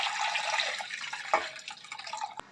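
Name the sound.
water poured into a cooking pot for chicken Manchurian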